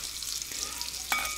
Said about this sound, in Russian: А вот жарятся гонады